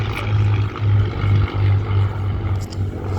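A Spitfire Mark XIX with a 36.7-litre Rolls-Royce Griffon engine performs a display pass at the Southport Airshow, giving a loud, steady, low propeller-engine drone that swells and eases throughout, with no one talking over it.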